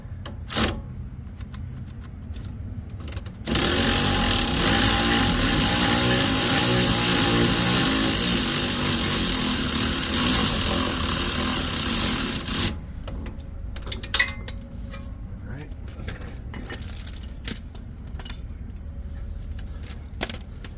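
A power tool loosens an 18 mm bolt on a 2011 BMW 528i F10 during engine, transmission and subframe removal, whirring loudly and steadily for about nine seconds, then stopping, with light clinks of tools after.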